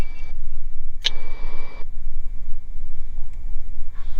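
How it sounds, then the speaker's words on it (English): A Beechcraft Bonanza's piston engine drones loudly and steadily as a little throttle is added to start taxiing, a deep, even rumble that carries through the whole moment. "I'll give you a little gas to get it rolling."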